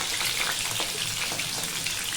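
Garlic cloves frying in a pan, a dense, steady sizzle and crackle of hot oil heard close and alone, without talk.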